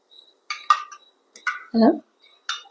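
Eggs for an orange honey cake clink and tap against a bowl in a kitchen, a few close, sharp knocks and scrapes of utensil on dish in short bursts with gaps between.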